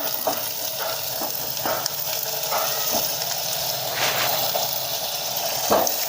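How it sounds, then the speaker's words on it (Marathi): Paneer pieces fry in hot oil in a kadhai with a steady, soft sizzle and occasional crackles and pops. The frying is moderately close, with no talk. "आता हे तळून घेऊया."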